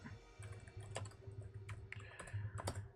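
Typing on a computer keyboard, scattered soft key clicks in uneven short runs, faint and close over a steady low background hum, with no voices.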